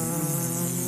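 A housefly buzzes right up close, a steady, droning hum with a strong low tone and a bright rasp above it, holding level throughout the short moment with no voices.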